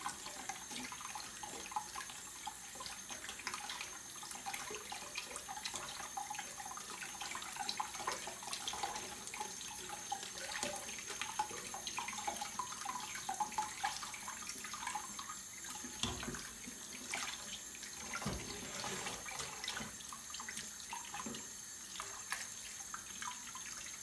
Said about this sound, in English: I'm just squeezing out the water.